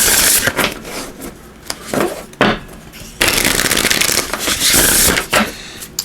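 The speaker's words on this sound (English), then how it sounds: "let's give this a shuffle." Oracle cards being shuffled during a solstice reading, giving bursts of crisp riffling and flapping card noise that start and stop irregularly, close and fairly loud, with pauses between shuffles.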